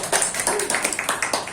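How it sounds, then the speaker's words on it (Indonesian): Applause in a classroom during a microteaching practice session: a short, close burst of group clapping with quick, uneven hand claps over about a second and a half. "berikan tepuk tangan"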